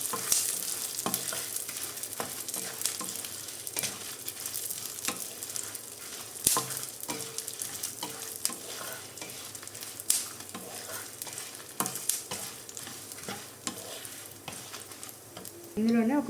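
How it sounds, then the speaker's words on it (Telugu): Urad dal, chana dal, garlic cloves and dry red chillies fry over a low flame with a soft, continuous sizzle and occasional scrapes of a stirring spoon against the pan, near and quiet. "ఇందులోనే ఒక 4 వెల్లుల్లిపాయ రెబ్బలు, ఒక 10 ఎండుమిరపకాయలు వేసుకొని లో ఫ్లేమ్లో ఇట్లా అన్నిటిని కూడా ఫ్రై చేసుకోవాలన్నమాట."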